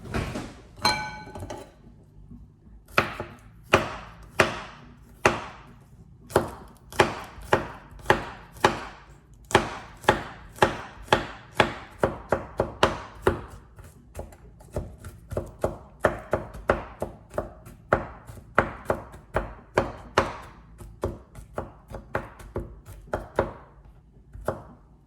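A knife chops garlic cloves steadily on a cutting board, dozens of sharp rhythmic taps close up, with brief pauses between runs.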